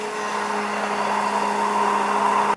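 Immersion blender whirring steadily in a jar of egg, white wine vinegar and salt, a close, continuous motor whine that cuts off abruptly.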